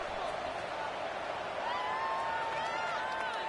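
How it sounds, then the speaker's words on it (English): A stadium crowd in a college football video game, heard as a steady, dense roar of cheering that swells slightly partway through, with a few whistles rising above it and a commentator's voice running underneath. "this crowd is feeling themselves after that last drive"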